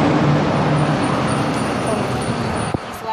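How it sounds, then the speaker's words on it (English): Loud trucks pass on a road, a continuous close roar of heavy traffic that fades slightly toward the end, with a brief knock near the finish. "These loud trucks."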